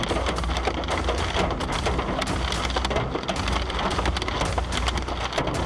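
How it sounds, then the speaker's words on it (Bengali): A violent hailstorm pounds surfaces with a dense, continuous roar of impacts and sharp clattering hits. It is loud and unbroken, with a low rumble underneath and no voices. "আপনি হয়তো শিলাবৃষ্টি দেখেছেন, কিন্তু এরকম ভয়াবহতা দেখেছেন কখনো?"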